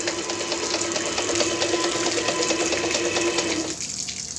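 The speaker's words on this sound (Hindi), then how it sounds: "ये मोटर अभी चालू हो गई हमारी।" An electric water pump motor wired with a capacitor runs with a steady whirring hum and flowing water. It stays loud and continuous, then cuts off abruptly near the end and leaves a quieter background hiss.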